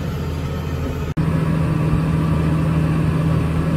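A New Holland T7 tractor engine idles steadily up close, a constant low rumble with a brief dropout near the start before the drone resumes unchanged.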